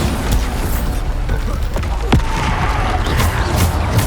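A Bombarda spell explosion in the Hogwarts Legacy video game, a single booming blast that stands out briefly amid a dense, continuous wash of combat noise with scattered sharp impacts.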